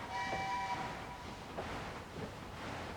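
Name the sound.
train running in video game Locomoto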